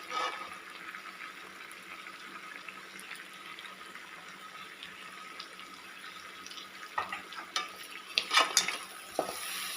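Yogurt is stirred into Thalassery dum biryani masala in a pot over a steady low sizzle, with wet stirring and light spoon-on-metal scrapes and clinks growing busier near the end.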